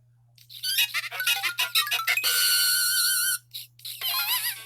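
Rats squeak in the video game The Legend of Zelda: Spirit Tracks, with a burst of short, high chirping squeals followed by longer sustained squeaks, sharp and clear over a faint steady hum.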